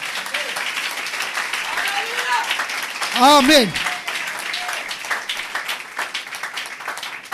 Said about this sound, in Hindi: क्या आप इस रोया के लिए तालियां बजा सकते हैं?